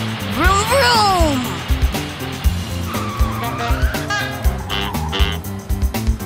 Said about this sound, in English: Vroom is the sound the trucks make when they drive very fast.